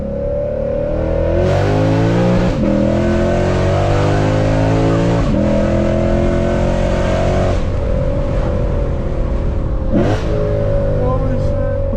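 A tuned Lexus RC F on a back road, its engine howling through repeated rev climbs and sharp downshift blips, loud and continuous from inside the car, with voices faintly underneath.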